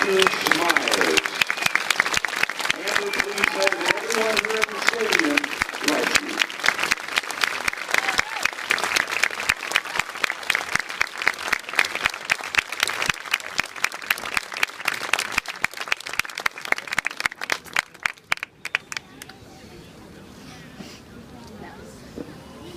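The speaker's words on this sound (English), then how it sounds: "please join me in a round of applause for Amber" An audience at an honor ceremony claps loudly in a long, dense round of applause with distinct individual claps. It thins out and drops to a quieter room near the end.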